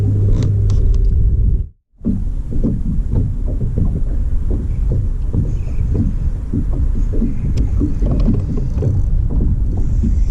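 A fishing boat motor idles with a low, steady rumble and some wind noise on the water, broken by one brief dropout near the start.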